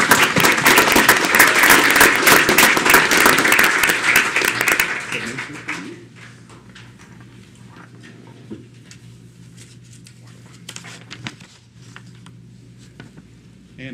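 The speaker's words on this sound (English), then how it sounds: "let's give everyone one quick round of applause again" Audience applause rings out at a city council meeting for student artists, a loud, full burst of clapping for about five seconds that drops off quickly into quiet room noise with scattered small sounds.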